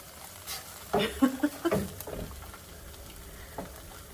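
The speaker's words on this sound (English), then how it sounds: "you want to cook the tomato paste a little bit. By the way, I'm like stirring in one pan and stirring in the other over here" Spoons stirring tomato paste in two frying pans, a cluster of soft scraping and sizzling pats near and fairly quiet, then a lone faint scrape.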